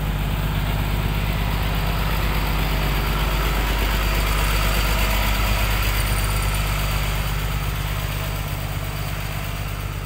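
A truck engine idles while waiting in a queue to dump soil, a loud, steady low rumble with constant vibration throughout, no talk over it.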